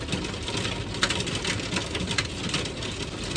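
Hail falls hard during a storm, a loud, dense clatter of pellets striking surfaces, with scattered sharper impacts over a continuous hiss.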